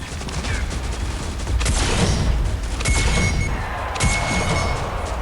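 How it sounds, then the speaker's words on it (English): Pistol fire in the video game Wargame: three loud, close, evenly spaced gunshots, each with a brief reverberant tail over a steady background rumble. "I take out my pistol and finish him off"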